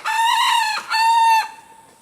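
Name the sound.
jungle fowl rooster crowing on the farm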